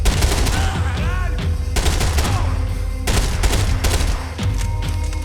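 Heavy gunfire in Max Payne 3 comes as loud, close bursts of automatic shots, several separate volleys with short gaps between them over game background noise.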